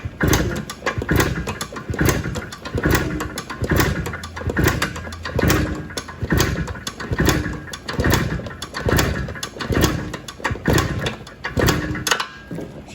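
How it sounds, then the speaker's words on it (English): Motorcycle engine kicked over with the throttle wide open during a compression test, a loud, regular, rhythmic chuffing of repeated cranking strokes that continues steadily throughout. "we're going to once again pull our kicker out, crack our throttle wide open"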